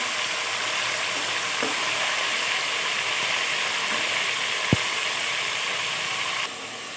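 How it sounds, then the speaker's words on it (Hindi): Chicken pieces fry in plenty of oil for karahi, a loud, dense, continuous sizzle and crackle held close for several seconds, with one sharp tap partway through. "अब हम साथ साथ इसको फ्राई करते हैं।"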